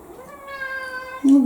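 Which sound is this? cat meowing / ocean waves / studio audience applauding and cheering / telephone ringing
cat meowing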